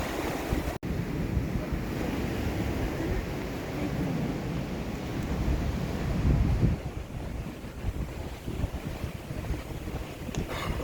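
Sea waves surge in a continuous, churning wash while wind buffets the microphone; the roar swells a little toward the middle and then thins slightly, with no voices.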